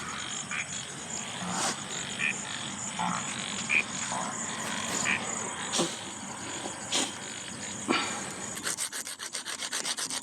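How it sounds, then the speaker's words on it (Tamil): A nut rubbed against a rough surface to prepare bait for catching winged termites at night, outdoors: a continuous close rasping scrape with intermittent sharper strokes, frogs and insects calling in the background, and a rapid train of scraping strokes near the end. "கொட்டை எடுத்து நல்லா தேய்க்கணும்"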